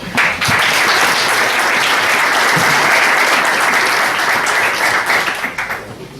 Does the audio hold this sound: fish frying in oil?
no